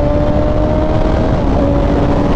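A Kawasaki Ninja ZX-10R KRT Edition sport bike accelerates hard with a quickshifter, heard as a loud, close, continuous engine roar with wind rush and a brief pitch drop at a gear change.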